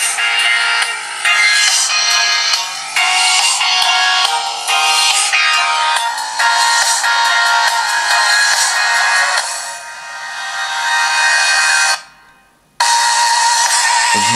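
A ThL W100 smartphone (MTK6589) plays a ringtone loudly through its built-in speaker, a bright, sustained melodic tune running almost continuously, with a brief drop to near silence before the music resumes.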